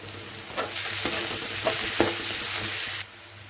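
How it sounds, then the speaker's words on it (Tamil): Bitter gourd with turmeric and chilli powder sautés in sesame oil, a steady close sizzle broken by a few sharp stirring scrapes, with no talking. "நல்ல எண்ணெயிலே நல்ல வதங்கிட்டு பாருங்க"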